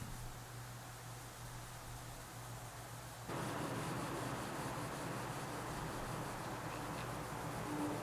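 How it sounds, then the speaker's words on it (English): Soft steady rubbing as oil is worked into a guitar fretboard by hand on a custom buckeye burl top build, a close continuous hiss that grows louder and rougher halfway through. "Now I'm applying some oil to the fretboard just to liven it up and preserve it, make sure it doesn't dry out."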